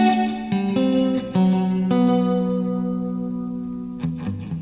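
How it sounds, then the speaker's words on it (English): Meris MercuryX reverb pedal processing a sustained guitar-like tone into a long, lush wash of reverb with chorus-like shimmer; chords ring and overlap, then decay slowly before new notes enter near the end, with no voices. "You don't normally hear a reverb go that far."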